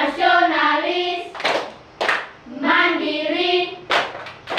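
Several sharp rhythmic claps of a Tepuk PPK classroom clap chant break in between stretches of voices chanting together, the claps spaced unevenly across a few seconds.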